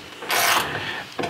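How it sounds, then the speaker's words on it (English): A screw is backed out of the panel of an American laundry dryer with a ratcheting tool, giving a short scraping, clicking burst followed by quieter rasping and a final brief click. "So I'm going to take this screw off of here."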